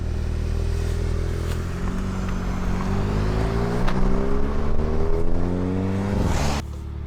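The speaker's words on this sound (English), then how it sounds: "This is the first time driving with no Sound Actor on my Golf R." A Volkswagen Golf R engine, sound actuator switched off, roars close by, revving up through several gear changes with rising pitch sweeps, then cutting off abruptly near the end.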